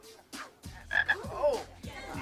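A frog sound effect gives a series of close, distinct croaks, spaced irregularly across about two seconds with quiet gaps between them.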